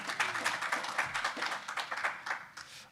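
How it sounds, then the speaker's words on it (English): A small group claps for a merchant at a developer workshop, with fairly close, uneven hand claps over about three seconds. "Round of applause for my merchant."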